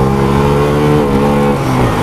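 A Bajaj Freedom 125 motorcycle running on CNG accelerates hard in first gear, a loud, close, steady engine drone with a rising pitch and no break.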